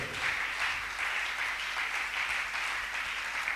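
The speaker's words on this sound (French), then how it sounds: "On acclame le Seigneur. Acclamons mes frères et sœurs." A church congregation applauds in praise, a dense, even wash of many hands clapping for several seconds without a break, steady and fairly near.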